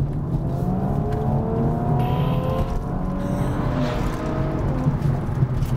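Tuned Audi S5 accelerating hard, a close, loud engine note climbing steadily in pitch with a brief gear change partway through, heard alone without talk.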